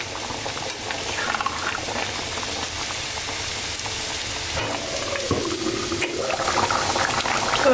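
An egg curry simmers in a pot, its bubbling gravy a continuous close, fairly loud burble with small pops and occasional stirring noises.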